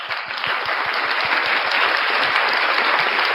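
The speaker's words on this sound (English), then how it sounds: "Let's hear a round of applause for him." Sustained applause from a sizable crowd, dense steady clapping throughout with no talking.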